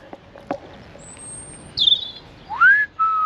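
A person whistles a few short rising and sliding notes outdoors in a churchyard at night, a clear close whistle set apart by brief pauses, with a faint whistled tone earlier.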